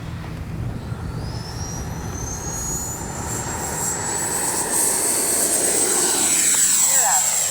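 An FMS 80mm F-86 Skyblazers RC jet takes off, its ducted-fan whine climbing steadily in pitch and growing louder as the model passes close by on an afternoon flight.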